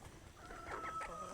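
Chickens cluck softly nearby, a few short calls over quiet background noise.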